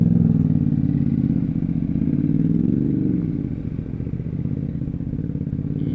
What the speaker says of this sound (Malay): Uncle naik motor kapcai